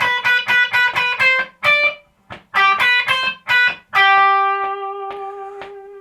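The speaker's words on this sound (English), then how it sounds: "So what's cool about this is that there's a second guitar part that actually sounds like this." Second electric guitar part of the song, a simple beginner riff: a run of short, clipped distorted notes in a steady rhythm, then held notes ringing out and fading, played alone and up close.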